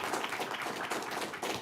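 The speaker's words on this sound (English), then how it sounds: "So round of applause for our panelists." Applause from an audience at the close of a panel event, a continuous dense wash of clapping hands sustained evenly throughout.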